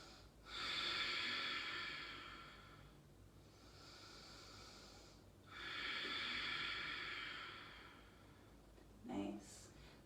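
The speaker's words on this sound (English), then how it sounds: "Big long inhales and exhales." Long, deep breaths during a yoga twist flow, two extended airy exhales or inhales lasting a few seconds each with a pause between, close and soft, ending with a short quick sniff.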